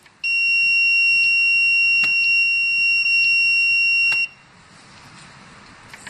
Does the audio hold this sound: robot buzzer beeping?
yes